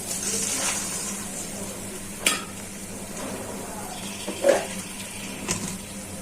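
Steady frying sizzle of spices with a few scraping stirs and a brief splash of curry broth being poured in, with no voices.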